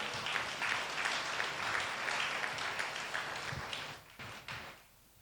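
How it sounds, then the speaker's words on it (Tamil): A church congregation clapping hands during a Sunday service, a broad, moderately quiet patter of many hands that holds for about four seconds and then thins out to scattered claps. "கைத்தட்டி அவரை மையப்படுத்துங்க"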